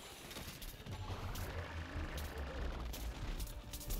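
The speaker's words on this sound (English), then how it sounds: "Oh, got shot in the back." Gunfire in Plants vs. Zombies: Garden Warfare 2: sustained rapid shots rattle steadily with a low rumble underneath, at moderate volume.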